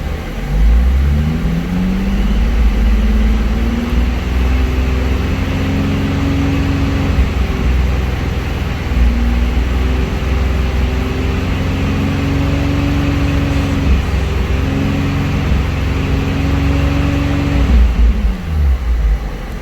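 Nissan 350Z engine held at a steady raised idle around 3,000 RPM, a loud continuous drone with shifting harmonic tones, close by and without talk.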